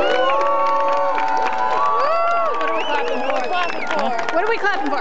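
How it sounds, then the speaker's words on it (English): A mixed crowd of adults and children at a zombie-themed gathering cheers and shouts nonstop, high excited voices layered over one another, with scattered clapping underneath throughout. "What are we clapping for?"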